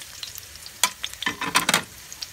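Food frying in oil until golden brown: soft crackling and sizzling bursts, close and intermittent, with a few louder spits and stirring sounds in the middle.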